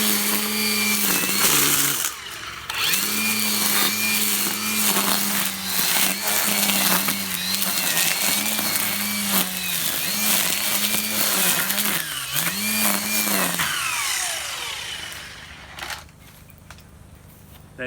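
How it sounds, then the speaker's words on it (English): Milwaukee Fuel cordless brush cutter with an adaptable head tears through dense undergrowth, a loud close whine that dips and surges repeatedly under load, then spins down and fades near the end. "Milwaukee Fuel. Cordless brush cutter with an adaptable head."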